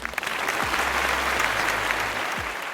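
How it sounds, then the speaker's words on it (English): A crowd applauds in a dense, continuous burst of clapping, loud and close, lasting a few seconds. "A round of applause for Inmost."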